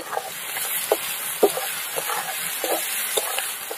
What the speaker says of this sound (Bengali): পেঁয়াজটা একদম ভালো করে লাল করে ভেজে নেব